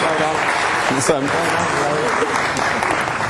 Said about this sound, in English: Big round of applause for our actors.